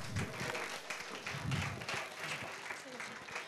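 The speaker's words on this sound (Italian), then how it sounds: "applauso alle modelle che stanno salendo" Applause for models stepping onto the stage at a hairdressing school show during a coffee and latte art event, a scattered, fairly faint patter of hands from the audience beneath some voices.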